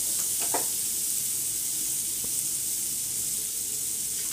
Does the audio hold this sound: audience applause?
no